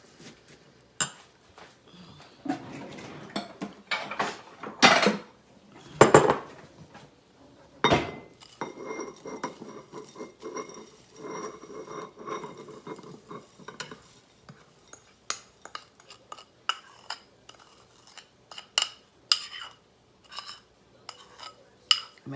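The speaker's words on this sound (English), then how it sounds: "stir it around. Get that butter into those crackers." A spoon scrapes and clinks against a bowl while melted butter is stirred into crushed Ritz crackers, irregular close-up clattering and tapping that continues steadily throughout, with no talking.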